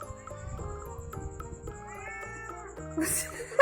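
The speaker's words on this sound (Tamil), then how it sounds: "மிலிட்டரி நீ என்னடி இப்படி கத்துற" A cat meows loudly and insistently for fish, giving a string of drawn-out, wavering cries, close by, with a sharper yowl at the end.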